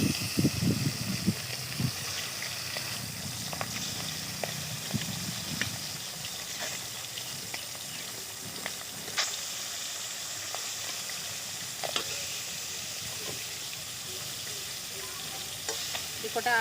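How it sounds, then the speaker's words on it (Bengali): Pieces of fish frying in hot oil in a wok, a loud, dense sizzle and hiss with occasional spatter pops, strongest at the start and continuing steadily, no talk. "এখন কটা ভেজে নিই।"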